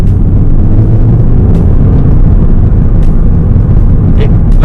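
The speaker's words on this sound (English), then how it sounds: "I hear a lot of road noise in this car" Steady, loud road noise fills the cabin of an Audi TT Mk2 on the move, a constant low rumble and roar with no gaps and no talk.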